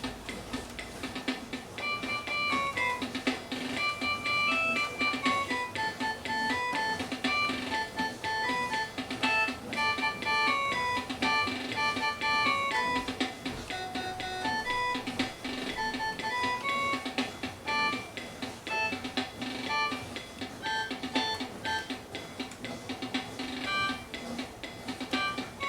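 A Casio SHS-10 keytar runs a preset rhythm, with a steady ticking electronic beat and bright, tinny synth notes stepping up and down. It plays loudly and continuously for about 25 seconds with no talking.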